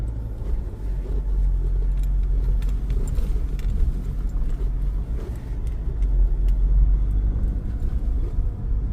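A Ford Ranger Wildtrak 4x4 pickup cruises carefully at low speed on a road, with a steady close engine and tyre rumble filling the cabin throughout and no talk.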